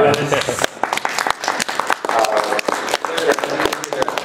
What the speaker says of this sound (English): They're specifically applauding that one